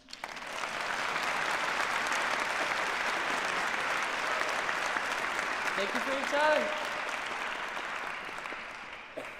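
Graduation crowd applauding in a large hall: dense, sustained clapping and cheering fills the space, loud and continuous, with a voice speaking briefly over it near the end.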